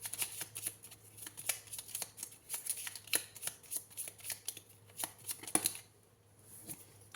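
Tarot cards are shuffled by hand in a steady flurry of soft riffling slaps, close and fairly quiet, with a constant low hum underneath before the motion slows near the end.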